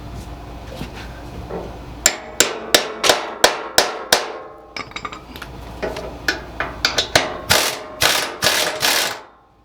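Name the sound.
hammering while restoring a 1987 Toro mower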